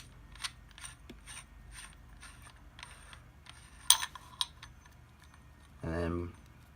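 The threaded hilt of a Korbanth K4 lightsaber is unscrewed, giving a run of light metallic clicks and scraping ticks at close range, followed by a brief voice near the end.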